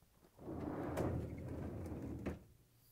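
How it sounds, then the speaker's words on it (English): LG/Kenmore refrigerator freezer door swinging open: a soft, low rumbling sweep lasting about two seconds with a light knock near its end, close and quiet in a still room. "To get to the part, we need to open the freezer door."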